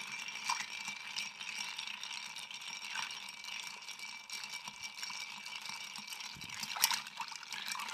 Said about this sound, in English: Add a little ice. Give this a good chill.